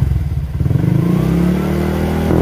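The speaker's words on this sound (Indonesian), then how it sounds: "Oke, jadi kayak gitu untuk suara knalpot PDRC nya." Honda Vario 125 scooter fitted with a PDRC racing exhaust, revved up close: a loud, deep engine note rising from idle into a sustained throaty rev, with no talking.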